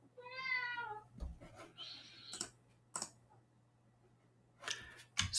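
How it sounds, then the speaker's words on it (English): A cat gives one clear, fairly close meow near the start, followed by scattered soft clicks and taps like keyboard typing in a quiet room. "Cat."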